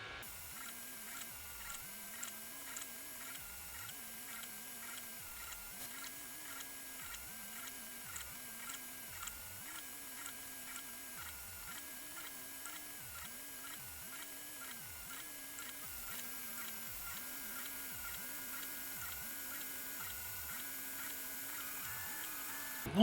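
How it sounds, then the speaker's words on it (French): A SUNLU 3D printer laying down its last layer, its stepper motors whirring in a steady repeating pulse of soft ticks under a constant fan hum, close and fairly quiet with no voices. "Il ne nous reste plus qu'une couche à imprimer."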